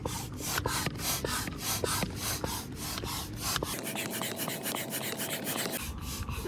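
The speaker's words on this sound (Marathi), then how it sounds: "आता आम्ही हवा भरतोय" A hand pump pushes air into an Explorer 300 inflatable river boat, with steady rhythmic rasping strokes roughly every half second, close and fairly loud, and no talking over it.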